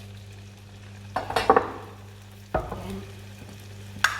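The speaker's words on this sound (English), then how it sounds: "I've still got enough oil in this pan for me to add the rest of the tofu in here to cook this batch off." Tofu sizzles in oil in a pan, with a steady low frying hiss broken by a few sharp clatters and stirring scrapes, close and fairly quiet.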